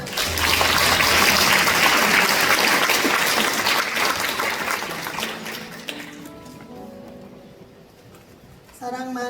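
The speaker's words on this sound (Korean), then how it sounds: "박수 부탁드립니다" Audience applause at a candlelit memorial night for disaster victims in a cathedral hall, a dense, sustained clapping that fills the room for about six seconds, then thins out and fades under a quieter passage.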